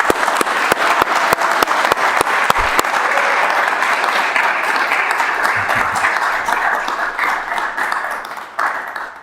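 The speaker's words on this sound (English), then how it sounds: "I'd like to give her a round of applause." Applause breaks out at a city council meeting, starting with a few sharp, separate claps that quickly merge into steady clapping from the room and fade near the end.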